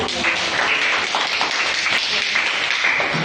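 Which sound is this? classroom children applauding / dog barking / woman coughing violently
classroom children applauding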